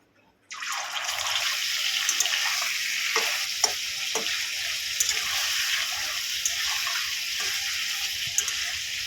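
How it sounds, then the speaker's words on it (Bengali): Chicken pieces fry in hot oil in a pan alongside partly cooked potatoes, a steady loud sizzle starting abruptly and holding throughout with occasional stirring clicks. "এবারে তুলে নেব তেলের মধ্যে চিকেনগুলো ভেজে নেব"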